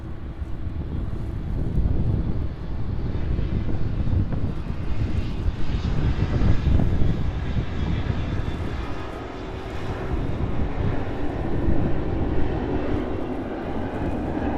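An airplane lands at East Midlands airport with a loud, sustained jet engine roar. The roar swells and dips slightly over about fifteen seconds, with some wind buffeting on the microphone and no speech.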